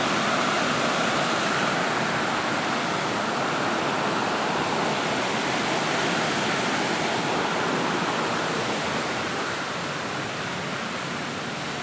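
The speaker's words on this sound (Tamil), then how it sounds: "தண்ணியோட ஆர்ப்பரிக்கிற சத்தம்" Loud, steady roar of rushing river water, a dense continuous wash of noise filling the whole clip with no voices.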